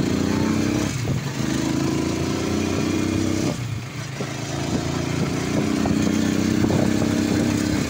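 A motorcycle fitted with a newly replaced sidecar idles and runs close by, a steady buzzing engine drone with a couple of brief dips and revs, and no talk over it.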